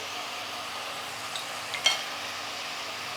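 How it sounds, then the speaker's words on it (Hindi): A steady, soft sizzle of ginger-garlic paste with salt frying in a pan, with a brief scrape of stirring near the middle. No voices. "अदरक लहसुन को अच्छी तरह फ्राई करना है हमें 3 से 4 मिनट तक चलाते हुए।"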